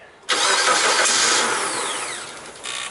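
A 2003 Mazda Protege with a misfire at idle cranks and fires up abruptly, a loud burst of engine noise that settles into a fading idle whir over a couple of seconds.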